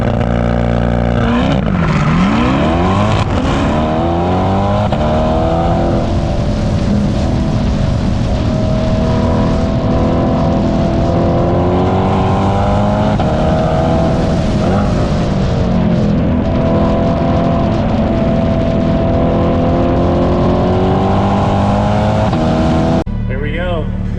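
A C8 Corvette at a spectator drag race, its engine revving hard in rising and falling sweeps, loud and continuous for over twenty seconds against a busy background.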